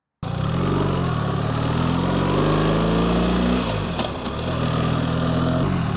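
A 2025 BMW R1300RT motorcycle rides two up with a pillion along a dual carriageway at about 30 mph, giving a loud steady engine drone with wind rush and a gear change partway through.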